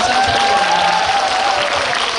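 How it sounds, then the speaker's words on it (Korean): A cinema audience applauds at a live talk event after a film screening, with loud, dense clapping holding steady throughout and a faint tone running beneath it. "네, 박수 부탁드립니다"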